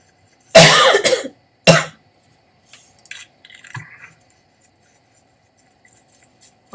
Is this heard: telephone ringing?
no